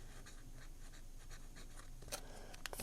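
A fountain pen with a fine Schmidt No. 6 nib scratches across paper in short, faint strokes, ending with a couple of sharper scrapes, very close and quiet.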